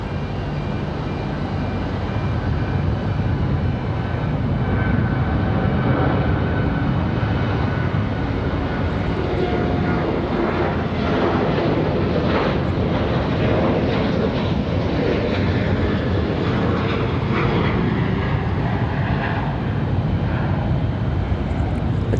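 Southwest Airlines jet in Nevada 1 special livery at Raleigh-Durham International Airport, its engines roaring loud and steady for the whole stretch with a broad rumbling wash that swells slightly midway.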